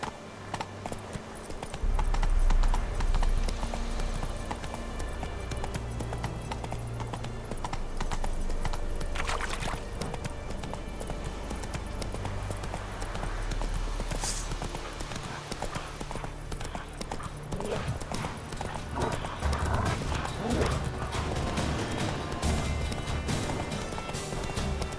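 Roach the horse galloping in The Witcher 3, steady rapid hoofbeats thudding in a continuous rhythm, close and loud, with a faint neigh and occasional ambient clatter layered over a low game background.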